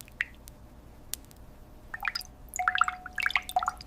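Creamy coconut milk overflowing and dripping in a coconut milk factory, sparse at first, then a busier run of wet drips and small splashes close by over faint machinery hum, with no voices.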